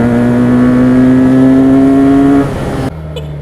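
Benelli 302S motorcycle engine revving: a loud, close, sustained high-pitched whine that climbs slightly, then drops off abruptly to a quieter idle near the end.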